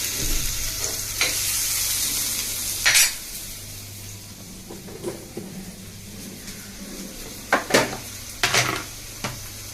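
Onions stir-fried in a home kitchen pan until lightly browned, a steady soft sizzle broken by several sharp scrapes and clinks of a spoon against the pan.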